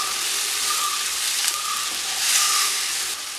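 Tomatoes sauté in a pan with a continuous, bright sizzle and soft hiss, with faint stirring scrapes now and then. The sound stays close and even throughout, with no talking.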